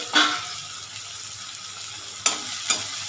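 Oil sizzles steadily in a pan as finely chopped onions sauté until golden, with a few sharp scraping stirs of a spoon cutting through.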